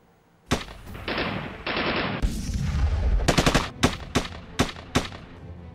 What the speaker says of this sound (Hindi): पाकिस्तान की गोलीबारी का भारत ने कैसे दिया जवाब, देखिए रमन सैनी की इस एक्सक्लूसिव रिपोर्ट मे